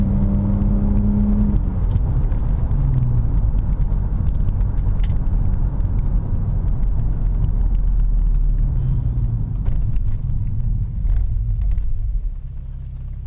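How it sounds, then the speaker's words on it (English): A BMW E60 5 Series pulling away hard from a standstill in sport mode, steady engine rumble and whir building through the gears, heard from inside the car with no talk. "sport mode on. Let me do a takeoff."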